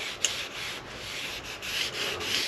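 Close, steady rubbing of a rag across a sanded epoxy surface on a sailboat being refitted, a soft continuous swishing with slight swells in loudness.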